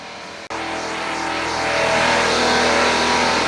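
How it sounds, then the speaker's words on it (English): A loud air pump in a large house kicks on abruptly after a brief pause and runs with a steady, rising roar until the clip ends. "That was an air pump, apparently."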